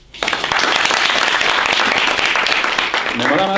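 Audience applause erupts suddenly at a seminar talk about selling courses, a loud dense burst of many hands clapping close by and filling the room, with a voice starting to speak as it continues.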